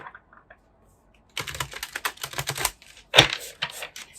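Stiff cards from a new oracle deck riffle and snap in quick, close crackling bursts after a few soft taps, with a short pause before a final flurry.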